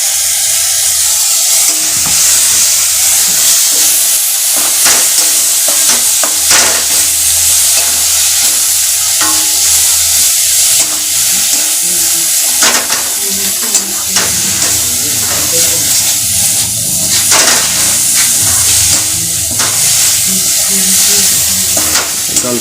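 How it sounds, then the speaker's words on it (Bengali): Dal frying in a pan in a home kitchen, a loud continuous sizzle and hiss with repeated stirring scrapes and clanks of a spoon, close up. "ডালটা ভেজে নিচ্ছি"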